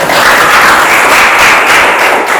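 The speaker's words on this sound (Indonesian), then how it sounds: "Tepuk tangan lagi kita." Students in a classroom applaud after a presentation, a loud, close, dense burst of clapping that stays saturated and even for its short duration, with no talk over it.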